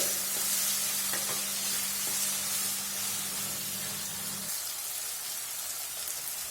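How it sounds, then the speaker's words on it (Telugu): Chopped tomatoes frying for egg curry fill the pan with a loud, continuous close-up sizzle that holds evenly throughout, backed by a low hum that drops away near the end. "ఈ టమోటా ముక్కలు కూడా బాగా మెత్తగా అయ్యేంత వరకు వేపుకుందామండి"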